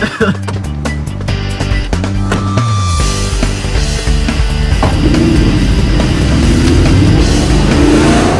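A sports car engine revs loudly close by, climbing in stepped bursts before settling into a steady, heavy roar with road noise.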